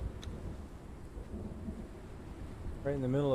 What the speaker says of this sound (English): Right in the middle of the storm.